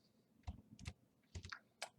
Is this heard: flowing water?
no